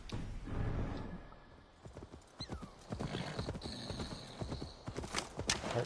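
Horse hooves clip-clopping at a riding pace in Assassin's Creed Valhalla, a steady run of hoofbeats with occasional neighs and whinnies over game ambience, fairly close and moderately loud with no talk.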